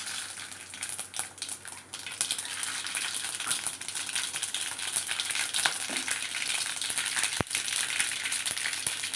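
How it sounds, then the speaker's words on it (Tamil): Mustard seeds splutter in hot oil, sizzling steadily with dense crackling and popping, a few sharper spits standing out, close and continuous. "கடுகு பொரிஞ்ச உடனே"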